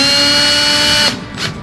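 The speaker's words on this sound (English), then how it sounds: "I'm just gonna drill a little bit through" A drill bores through the metal roof of a wedge camper, a loud, steady high-pitched whine that stops abruptly, followed by a brief faint scrape.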